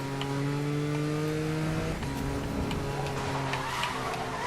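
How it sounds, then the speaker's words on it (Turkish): Car exhaust revving in the Need for Speed Most Wanted video game, a loud sustained engine drone with steady tonal harmonics that shift pitch as the engine changes gear around midway, continuous and close without speech. "Egzoz olayda çok hoş ya."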